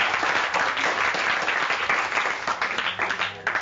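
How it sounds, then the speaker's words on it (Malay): Students in a Form 1 history class applaud a group after its presentation, a brief round of many hands clapping together, fairly close and lively, breaking into sparser individual claps at the end. "Kita beri tepukan kumpulan ini"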